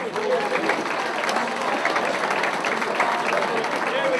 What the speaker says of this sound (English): Nice round of applause for Derek